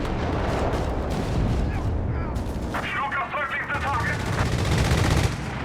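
Rapid gunfire and booming explosions from a Company of Heroes 3 match, dense and continuous throughout with overlapping bursts and blasts, loud and close in the mix.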